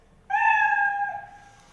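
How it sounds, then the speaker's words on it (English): A Scratch sprite plays its stock cat meow sound effect, one clean, clear tonal meow lasting about a second against silence. "this way the sprite will create a sound of meow"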